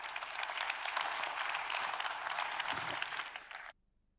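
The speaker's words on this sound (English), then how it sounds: "Please, I hope everyone gives a big clap to Raju, Nat, and Anthony for joining me." An audience at a forum on national connectivity claps for a panel, a dense, even burst of applause lasting a few seconds before it stops abruptly.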